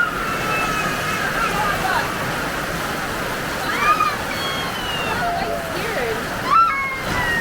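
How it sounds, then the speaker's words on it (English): Steady broadband rain and running water fill the whole stretch, with a voice speaking over the constant wash. "It's just rain."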